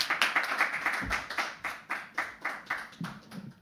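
Scattered clapping from a small audience at a poetry and shayari performance, individual hand claps audible in an uneven rhythm with short bursts, fairly close and moderately loud, no talking over it.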